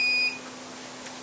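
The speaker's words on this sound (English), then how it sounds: "See, it's beeping." A chicken egg incubator just switched back on gives a few short electronic beeps, with a steady high tone early on and a brief bleep near the end, heard close and alone.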